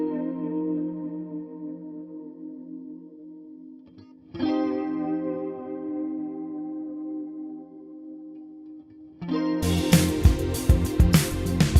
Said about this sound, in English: let's add reverb. Now we're at it. We're gonna go for Hall